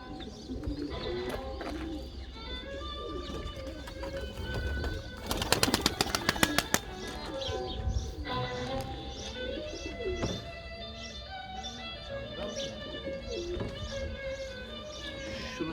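Pigeons in a Turkish loft coo repeatedly in soft, overlapping calls, with a brief burst of flapping wings partway through and steady chirps, near and clear, with no voices.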